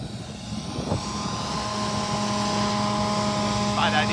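A steady mechanical combine harvester chopper drone in a wheat field with a sustained tonal hum runs throughout, loud and continuous, with a brief voice near the end.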